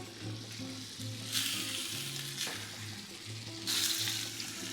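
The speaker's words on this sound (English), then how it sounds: "Now I'm gonna give everything a nice mixing." Salted cod stew with tomato sauce being stirred in a pot, a low simmering bubble under two bursts of brighter scraping and sloshing as a spoon mixes it, quiet and close.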